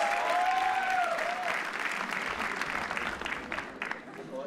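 Audience applause fills a comedy roast hall, loud, dense clapping with some cheering, swelling at the start and easing slightly toward the end.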